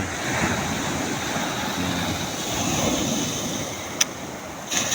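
Rough sea around a fishing boat, with big waves washing and breaking continuously alongside and steady wind buffeting the microphone, plus a brief splash or knock near the end.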